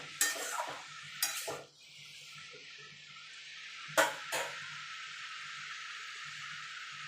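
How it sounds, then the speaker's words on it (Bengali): Bottle gourd is stirred with spices in a pan, giving a few quick, loud scraping strokes over a faint, continuous sizzle, with long quiet gaps between the strokes. "দিয়ে এবার ভালো করে মশলার সঙ্গে লাউটাকে মিশিয়ে নেব।"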